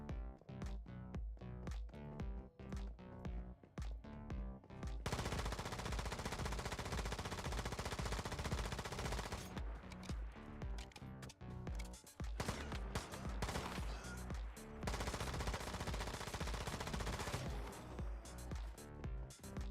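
Automatic weapon fire with copper ammo in the survival shooter game Once Human: rapid rhythmic bursts of shots at first, then long sustained loud volleys of continuous gunfire with brief pauses between them, no talk.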